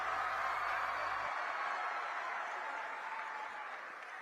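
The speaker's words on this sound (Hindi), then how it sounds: "माननीय मुख्यमंत्री जी का तालियां बजाकर जोरदार स्वागत करें" Audience applause welcoming the Chief Minister at a Viksit Bharat Viksit Chhattisgarh government event, a dense, steady wash of clapping from a large crowd that holds throughout and fades slightly toward the end.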